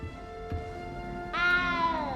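A cat meows in the video game Hogwarts Legacy: one high, drawn-out meow rises and then slowly falls, standing clearly above a quiet ambient background.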